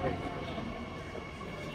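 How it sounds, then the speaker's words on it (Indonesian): A train rumbles and whines steadily while arriving at a station on a route from Chongqing to Lanzhou, with a sustained mechanical hum at moderate distance. "jadi cuma beberapa detik keretanya udah datang."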